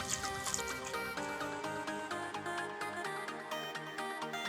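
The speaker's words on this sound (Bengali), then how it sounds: "জলটা বেরিয়ে যাচ্ছে।" Rinse water drains off cut ash gourd pieces in faint, steady dribbles and drips, quiet and close, over a low tonal background hum.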